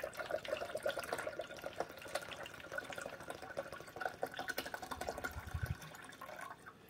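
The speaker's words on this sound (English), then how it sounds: "And we're going to dump it into the reservoir." Plain water is poured steadily into the reservoir of a Braun MultiServe KF9150 coffee machine, producing a soft, continuous gurgling trickle that ends with a brief louder splash.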